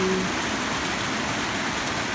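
Steady rain hissing across a surface, a continuous broadband wash with no voices, holding even and fairly loud throughout.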